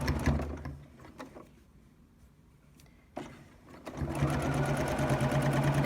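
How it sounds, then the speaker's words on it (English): A sewing machine stitches a fabric face mask in two rapid whirring bursts separated by a quiet pause, the second run longer and steadier, close and fairly loud. "I'll start sewing the mask together"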